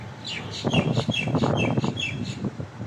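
Indian mynas calling near at hand, a busy run of repeated whistled and chattering notes over about three seconds, with no talk.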